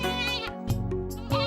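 A goat tied in a village wedding pavilion bleats in close, quavering calls, two or three wavering cries in quick succession, loud and alone.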